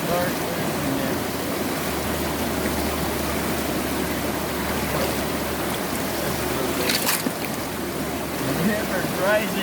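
A fast, rising river in Alaska rushes in a dense, steady watery roar, close and continuous, with no voices over it.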